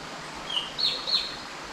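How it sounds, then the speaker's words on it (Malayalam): Birds chirp in the forest on the Agasthyarkoodam trek, several faint, high, brief calls over a steady background of rushing stream water. "ഇവിടെ നിന്നപ്പം കുറച്ച് കിളികളെ സൗണ്ട് കേൾപ്പിച്ചു തരാവേ,"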